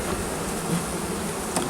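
Honeybees buzz around their hives during winter preparation, a loud close continuous drone with no speech, one brief sharper sound near the end.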